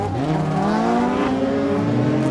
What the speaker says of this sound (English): Love hearing the transmission chatter on the brakes.